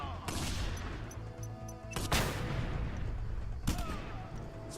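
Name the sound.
gunshots from the video game Just Cause 2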